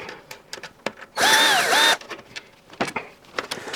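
A power screwdriver whirs in one short, loud burst of under a second while backing screws out of the suppressor filter on a built-in Bosch washing machine, surrounded by scattered clicks and handling knocks.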